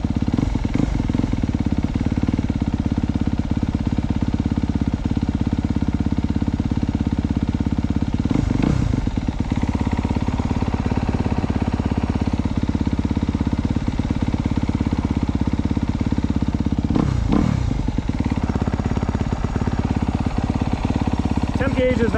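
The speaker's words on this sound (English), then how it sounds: "The bike is warming up, but temp gauge is not moving." A Sur-Ron electric dirt bike runs steadily while warming up, giving a continuous close drone with occasional clattering bursts, and someone talks over it.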